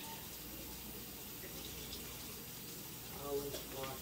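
A cheese grater is rinsed under a running kitchen tap while cooking quiche, giving a quiet, steady hiss of flowing water throughout, with a voice speaking briefly near the end.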